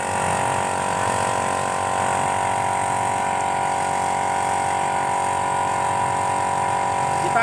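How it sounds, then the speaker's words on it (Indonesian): Air compressor machine running steadily alone, a continuous loud mechanical drone with a constant motor hum and no breaks. "Ini adalah mesin kompresornya"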